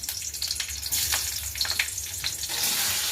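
Green chilli and nigella seeds frying in hot mustard oil in a kadai for an aloo torkari, a steady close sizzle with brief crackling bursts and louder spitting toward the end.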